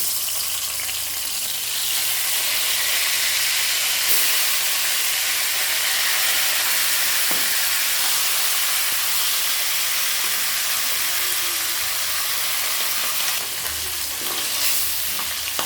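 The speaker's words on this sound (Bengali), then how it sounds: "এইটা তেলটার মধ্যে আমি মাছটাকে ভালো করে ভেজে নেব, মাছের মাথাটাকে সুন্দর করে ভেজে নেব।" A fish head coated in salt and turmeric frying in mustard oil, a loud continuous sizzle and hiss held close throughout, with faint scrapes.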